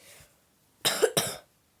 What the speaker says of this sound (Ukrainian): я ще маю кашляю.